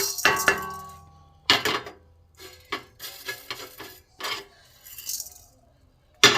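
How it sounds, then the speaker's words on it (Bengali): Panch phoron, the Bengali five-spice mix, dry-roasting in an empty pan while a spoon stirs and scrapes it, making sharp intermittent clinks and rattles against the metal with short quiet gaps between them. "5 ফোড়নগুলো আমি শুকনো খোলায় ভেজে নেব"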